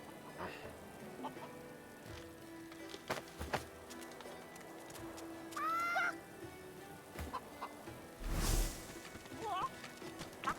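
Chickens in a video game give several short clucking calls scattered over a quiet backdrop of faint game noise and scattered clicks.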